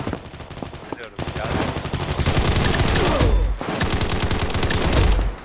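Rapid automatic gunfire in the shooter video game Combat Master, loud and sustained in dense bursts with a brief pause between them, close and continuous across the stretch.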